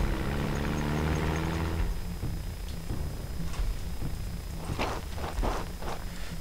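An airplane in the strategy game Rise of Nations drones for about two seconds, then fades into softer ambience broken by several sharp clicks and taps.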